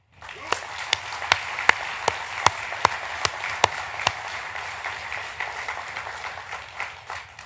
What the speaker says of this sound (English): That is more than worthy of a round of applause.